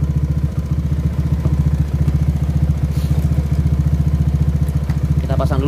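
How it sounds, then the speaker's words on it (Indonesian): A Honda Beat ESP scooter engine with intermittent ignition runs with a loud, steady, rapid chugging pulse throughout, close by, as a faint voice appears near the end. "Kita pasang joknya, kita tes jalan apakah motornya mati atau tidak"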